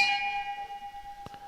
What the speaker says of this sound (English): Yep, bell's gone.